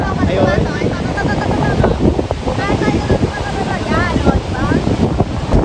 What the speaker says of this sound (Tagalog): sobrang lakas lang ng hangin, sobrang lakas lang ng alon